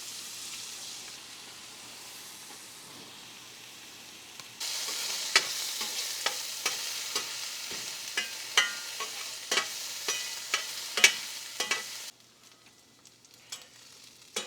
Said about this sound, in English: Soften up the onions just a little bit.